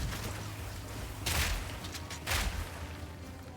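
Grenades exploding in the video game Path of Exile 2: two short, muffled bursts about a second apart over steady low background noise, faint overall.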